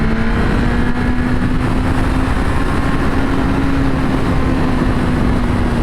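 A 2023 Suzuki GSX-R1000R sport motorcycle engine drones steadily at close range with a constant buzzing hum, like riding at an even speed.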